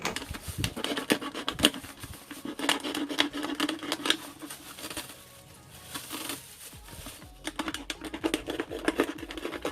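Scissors or a blade cutting through a plastic bottle to make a self-watering plant pot, heard as dense, steady crackling and snipping that runs nearly throughout with a short lull partway.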